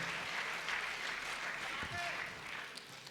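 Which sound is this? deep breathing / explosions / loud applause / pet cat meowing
loud applause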